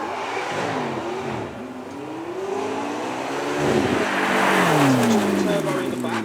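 A McLaren 12C's 3.8-litre rear-mounted turbo engine revs at a supercar weekend at Beaulieu, with rising and falling tones that swell louder toward the end while someone talks over it.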